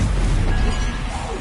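A Stupefy spell strikes during a troll fight in the Hogwarts Legacy video game, giving a loud, dense burst of crashing impact noise that fills the whole moment with a low rumbling tail.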